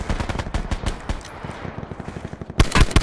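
Rapid bursts of automatic gunfire in a video game shootout, dense crackling shots in quick succession, loud and close, ending in a heavy cluster of blasts.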